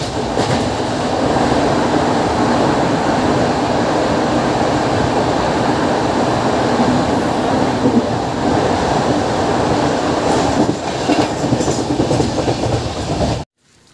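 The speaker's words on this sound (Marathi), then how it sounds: "आणि हा लोकल ट्रेनचा पण व्ह्यू तुम्ही पाहू शकता." A Mumbai local train runs along its track, seen from a window, with a loud, steady rumble and rattle of carriages throughout and no talk; it cuts off abruptly at the very end.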